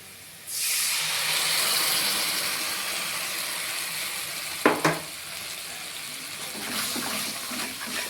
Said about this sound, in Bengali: এবার আমি পেস্ট করা পেস্ট মশলাটা দিয়ে কষিয়ে নেবো